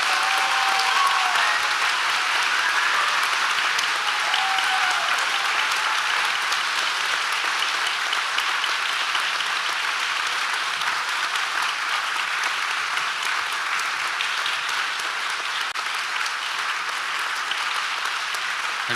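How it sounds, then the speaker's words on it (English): Sustained, even applause from a large audience fills an award ceremony hall, a thick unbroken roar of clapping that holds steady throughout with no voices over it. "So would you give us one more gigantic round of applause?"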